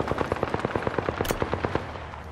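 Rapid automatic gunfire in the shooter game Apex Legends, a fast, evenly spaced stream of sharp shots lasting a couple of seconds, loud and close, with a brief bright crack partway through.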